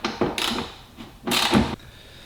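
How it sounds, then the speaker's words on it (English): A 10mm wrench works the bolts holding the fourth brake light on a GR86, giving two short, quiet bursts of close mechanical scraping and creaking separated by a brief pause. "you're gonna need your 10mm wrench to take off your bolts on each side of your 4th brake light"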